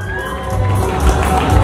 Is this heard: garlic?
no